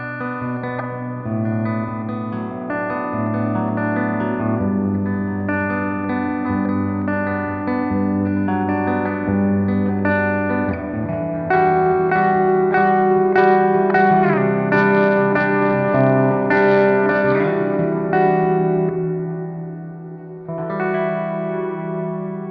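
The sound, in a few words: guitar reverb pedal effect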